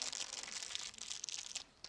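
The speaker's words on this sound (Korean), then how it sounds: "여기에 비닐로 한번 감쌉니다" Plastic wrap being wound around a small peach-pink mini bouquet made with roses, producing a steady, close, dense crinkling and rustling that continues almost without pause, easing briefly near the end, with no voices.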